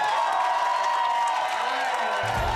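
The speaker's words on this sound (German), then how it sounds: "Wir brauchen einen Applaus für die erste Runde." A studio audience at a TV breakfast-show karaoke contest applauds and cheers in a steady, dense wash of clapping and crowd noise that lasts throughout, with a brief low thump near the end.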